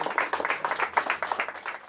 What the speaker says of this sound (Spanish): brindarle un aplauso con mucho cariño y respeto para usted